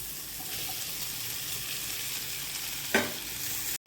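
Mashed boiled potatoes stirred into a frying masala for masala dosa filling, a steady broadband sizzle with soft scraping, and one louder spoon scrape near the end.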